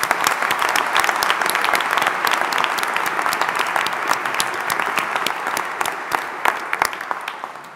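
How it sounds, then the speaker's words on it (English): Sustained applause from a large audience at a university graduation ceremony in Greenwich, dense and steady for the whole stretch with some sharper individual claps standing out toward the end. "I think another round of applause is very much in order."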